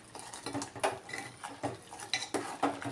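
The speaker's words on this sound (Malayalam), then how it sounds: "നമുക്കൊന്ന് ഇളക്കി കൊടുക്കാം." A spoon scrapes and clinks around a metal pot of spinach sambar, in a series of irregular close knocks and scrapes with no talking.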